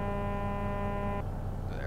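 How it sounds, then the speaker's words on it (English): A Kenworth K100 truck horn in a video game mod blares as a steady, buzzy harmonic tone for over a second, then cuts off abruptly, leaving a low hum. "Do the horn."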